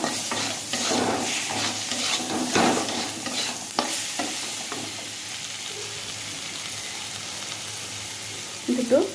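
Tomatoes with a little salt being sautéed in a pan, with steady sizzling and stirring scrapes that carry on throughout, louder and busier in the first few seconds, then settling into a softer fry.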